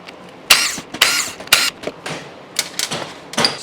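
Three 8mm bolts are loosened from the oil filter cap on the right side of a Kawasaki KLX140 motor, giving a series of sharp, close metallic clicks and knocks in separate bursts with quiet gaps between.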